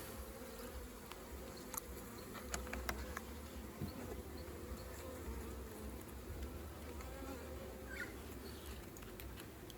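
A low, steady drone of many honey bees buzzing around a hive, faint and continuous, with occasional individual insects passing closer.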